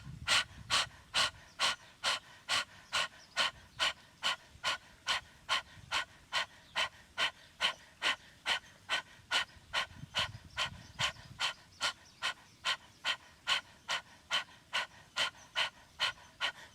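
During a Bikram yoga class, a person does rapid, forceful breathing, snapping the belly in with sharp, evenly spaced exhalations about twice a second, close and clear, in a long unbroken series.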